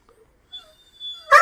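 Dogs let out thin, high whimpering whines, brief and moderately loud, followed by a louder burst of yips at the end.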